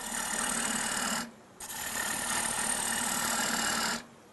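A long grind bowl gouge cutting into wood spinning on a woodturning lathe, removing material. A steady, fairly faint whirring scrape runs almost throughout and briefly cuts out twice.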